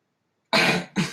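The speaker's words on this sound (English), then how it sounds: "I think he like sneezed into it" A sudden sharp sneeze bursts out close by, followed by a shorter second burst after a brief pause.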